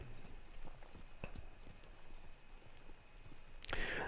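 Horse hoofbeats in the Ghost of Tsushima video game, a faint steady clip-clop trot with a brief louder burst at the end.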